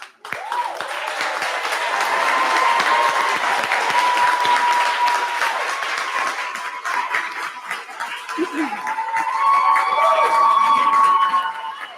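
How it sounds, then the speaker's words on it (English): Long, loud applause from an audience at a college prep graduation ceremony, dense clapping swelling and holding for seconds, mixed with whistles and cheers from the crowd. "So I hope this is not the longest set of applause you get in your life"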